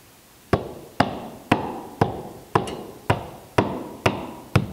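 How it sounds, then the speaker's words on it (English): A hammer taps a wooden boat plank into place during an end repair, striking eight times in a steady rhythm about half a second apart, each blow sharp and close with a short ringing decay. "I'm just going to use my hammer to tap it in the rest of the way."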